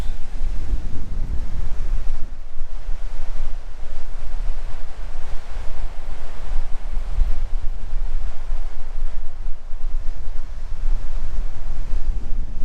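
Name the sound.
waves crashing on the shore at Notch Point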